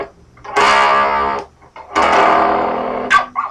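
Guitar riff played through a phone app's reverb effect, two long sustained distorted chord phrases, close and loud, with a brief pause between them.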